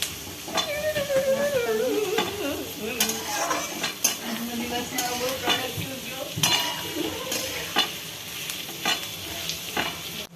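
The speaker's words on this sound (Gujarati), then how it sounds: "હવે આપણે આ થોડું સાતળી લઈશું." Vegetables for veg manchurian sauté in a hot pan with a steady sizzle, broken by repeated scraping and clinking as a utensil stirs against the pan.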